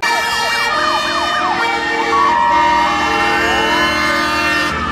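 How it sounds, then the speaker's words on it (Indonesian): A toy fire truck siren wails loudly and close, rapid up-down sweeps turning into slower rising tones over an electronic hum. "kalau yang ini mobil pemadam kebakaran."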